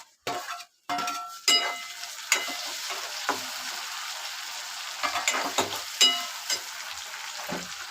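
Tomatoes drop into browned onions in a hot pan while cooking Konkan-style green pea usal, setting off a steady, close sizzle with a few metallic clinks of a utensil against the pan.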